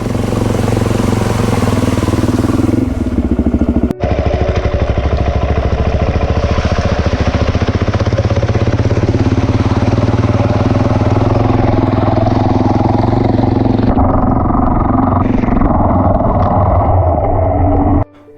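A Suzuki DRZ400E dirt bike engine runs loud and continuous on a Blue Mountains trail, revving and labouring steadily close up, with a brief drop near four seconds and a lighter stretch toward the end.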